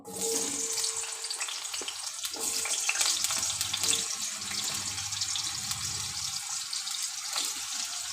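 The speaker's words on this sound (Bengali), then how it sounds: "আমি প্রথমে আলু আর বেগুনটা ভেজে নেব" Potato and eggplant pieces fry in hot oil in a home kitchen, producing a continuous moderate sizzle with watery crackle and a few faint utensil clinks, no voices.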